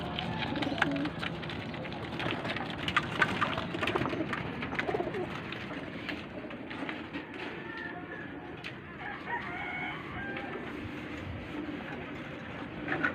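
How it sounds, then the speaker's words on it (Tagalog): A flock of pigeons coos and rustles close by in a continuous, busy chorus, with occasional wing flutters and clucking throughout. "At mayroon tayong dagit mga kalapatids."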